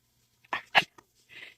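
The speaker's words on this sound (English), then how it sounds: "You whisper bark. You go woof." A dog gives quiet, breathy whisper barks, two or three soft huffs close by in a quiet room, followed by a faint exhale.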